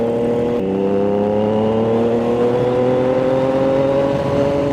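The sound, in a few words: Triumph Trident 660 motorcycle riding on road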